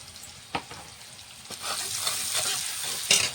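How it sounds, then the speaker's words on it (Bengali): Ground spice masala of chilli, cumin and coriander powder with salt sizzling in a pan for a fish curry, a steady close fry broken by a few sharp stirring scrapes, no voices. "মশলাটা ভালো করে কষিয়ে নেব।"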